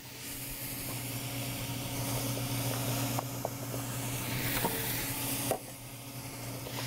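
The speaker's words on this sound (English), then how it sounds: "Now I'm gonna add my carrots, garlic, and onions." Carrots, garlic and onions hitting a hot pot, a steady broad hiss and sizzle throughout with a few small pops and crackles, close and moderately loud.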